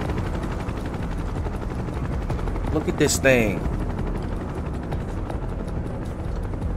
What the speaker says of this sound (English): this loud helicopter is still above my head right now